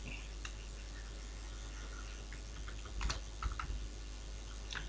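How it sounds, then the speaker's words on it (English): Computer keyboard typing during HTML coding, heard as faint scattered keystrokes with a short burst of louder clicks near the middle and end over a steady background hum. "here I will type the attribute href and http"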